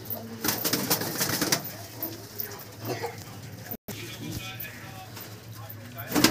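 Pigeons coo and call at a pigeon sale, several birds close by in a busy market setting with traders talking over them, the cooing mixed with voices and background bustle throughout.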